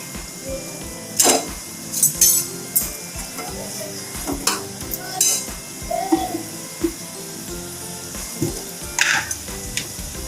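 Drumstick pods frying in a pan for a Maharashtrian-style bhaji, with a steady sizzle broken by repeated stirring scrapes and light clinks of a spoon against the pan.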